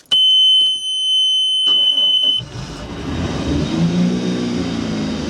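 A boat engine, run for testing at home before a trip to the lake, revs up rough and labored after a steady high beep cuts off, then settles into a struggling, uneven idle rumble, loud and close.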